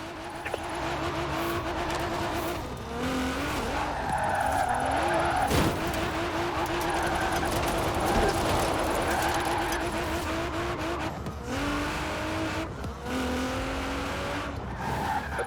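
A car drifting with the e-brake in the racing game Forza Horizon 4, engine revving and dropping in tone over long, wavering tire squeals that rise and fall through the whole stretch.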